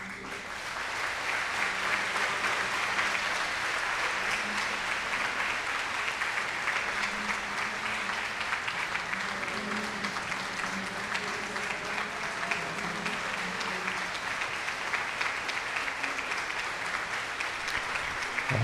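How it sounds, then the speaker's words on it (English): A standing audience of about 300 at a Kentucky Bourbon Hall of Fame induction ceremony claps steadily, a dense, even wash of applause that holds unbroken at full strength for the whole stretch. "All 300 people are standing, clapping."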